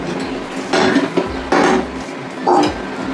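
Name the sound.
pot of milk being taken off and set down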